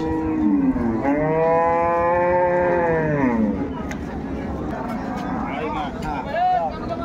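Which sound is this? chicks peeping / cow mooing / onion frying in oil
cow mooing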